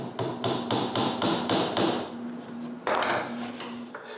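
Repeated sharp hammer taps drive aligning dowels into a wooden part of a shopmade edge sander, about a dozen evenly spaced metallic-edged knocks ringing close over a steady low hum, with a louder strike near the end.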